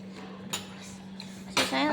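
Metal spoons and serving cutlery being handled and set down, a few sharp clinks and clatters, one louder rattle near the end, over a low steady hum.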